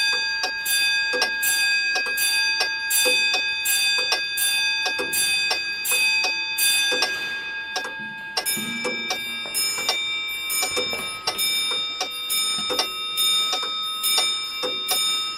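Antique clocks in a museum ring out with overlapping bell and gong chimes, each strike sustaining a bright ringing tone, while steady ticking runs underneath; a second set of chimes takes over midway.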